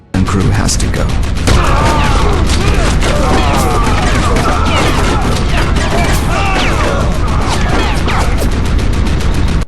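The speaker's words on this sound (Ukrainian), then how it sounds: "вирішила поганяти вату протиповітряною пушкою" An anti-aircraft gun fires in the video game Sniper Elite, a loud, dense, unbroken barrage of rapid booming shots that runs through the whole stretch.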